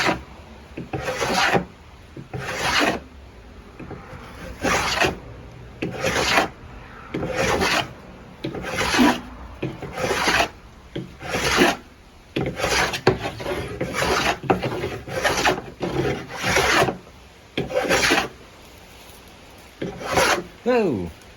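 Old wooden siding, about seventy years old, is worked over with a scraper and sandpaper in repeated rasping strokes, roughly one firm pass every second or so, close and loud with short pauses between strokes.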